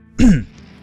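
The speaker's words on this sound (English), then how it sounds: "Clear my throat here a little bit, if you don't mind." A man clears his throat once, a loud, close, rough guttural rasp lasting under half a second before quiet returns.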